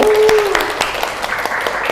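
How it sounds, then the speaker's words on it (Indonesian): Classroom applause for a student group in a taxation course, a short burst of clapping with a brief voice at the start, fading quickly. "Tepuk tangan dong buat kelompok D."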